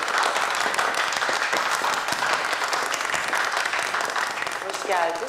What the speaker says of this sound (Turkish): kardeşini arayan Daniel bizlerle beraber alkışlarla